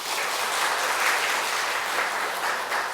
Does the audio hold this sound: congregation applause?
yes